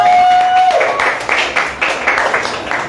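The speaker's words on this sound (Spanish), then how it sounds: "compañeros, un aplauso otra vez para Daniela, que se acaba de rifar" A brief burst of audience applause at a lecture on psychedelia in Mexico rises after a held tone and continues as rhythmic, fairly close clapping for about two seconds.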